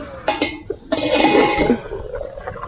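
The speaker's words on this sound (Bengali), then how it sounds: "এবার আমি ঢাকনাটা খুলে একবার দেখি" A metal lid lifted off a cooking pot of simmering vegetables: a few sharp clanks and clinks, then a brief rush of bubbling and steam, fading to quieter rattles.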